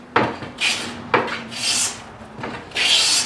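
A scrub hand plane takes rough cuts across wood with reversing grain, four rasping strokes close by, each starting with a sharp bite and ending in a hissing shave, separated by short pauses.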